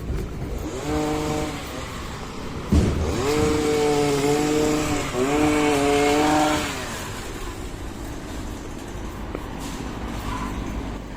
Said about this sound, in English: the resident gardener was at work, lopping the trees and doing general maintenance to the gardens and grounds